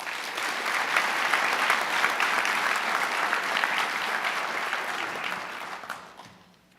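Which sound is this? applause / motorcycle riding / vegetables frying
applause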